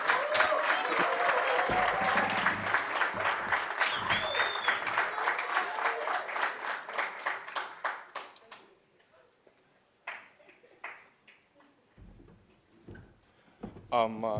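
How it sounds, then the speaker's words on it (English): Hackathon audience applauding a team called to the stage, a dense burst of clapping that gradually thins and fades out, followed by scattered claps, thumps and a voice. "A round of applause"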